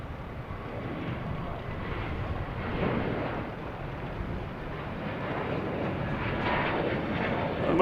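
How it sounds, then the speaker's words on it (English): A JetBlue Airbus A321neo takes off, its engines giving a steady broadband roar at a moderate distance that swells slightly toward the end, with no voices over it. "And we got a JetBlue taking off, heading to Chicago at A321neo."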